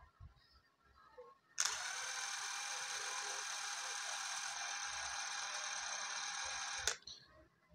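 A DeWalt 12V impact driver runs freely at its lowest speed, around 1022 RPM, giving a steady close whir that starts abruptly, holds for about five seconds, then cuts off.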